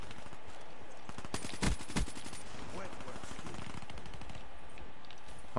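Gunfire in Black Ops 3 on the Safeguard mode of the Verge map, scattered distant shots with a couple of louder close cracks in the middle, over constant game ambience and some speech.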